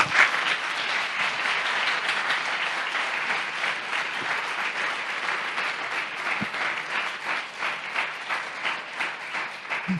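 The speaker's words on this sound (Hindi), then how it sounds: "आइए यीशु के लिए जोरदार ताली बजाएंगे।" A church congregation at a Hindi sermon claps vigorously for Jesus, producing steady, dense applause that continues evenly throughout.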